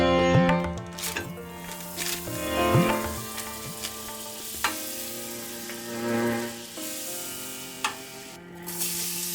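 Oil sizzling and spitting in a hot pan on a gas stove, a steady crackling fry with repeated scraping and clattering stirs throughout, no voices.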